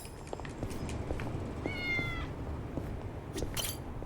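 Cat meowing in the video game Yakuza: Like a Dragon, a single drawn-out meow with clear harmonic tones rising above steady background game ambience and faint clicks, heard alone without talk.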